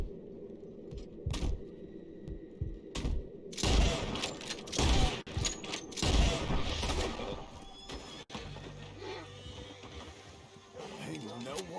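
Scattered gunshots ring out in Red Dead Redemption amid horse whinnies and hoofbeats, a few loud sharp cracks in the middle, with voices talking throughout.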